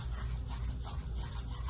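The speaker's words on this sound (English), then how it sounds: "I'm making sure to scrape the walls of the cup and also scrape the bottom like this" Popsicle stick scraping silicone around the walls and bottom of a mixing cup, a short, close, continuous rubbing rasp with soft repeated strokes.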